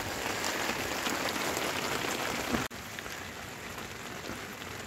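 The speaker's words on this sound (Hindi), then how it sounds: "यहाँ पे बारिश चल रही है भाई ज़बरदस्त वाली" Heavy rain pours in a jungle as a dense, steady hiss at close range, cutting abruptly partway through and resuming slightly quieter, with no voices.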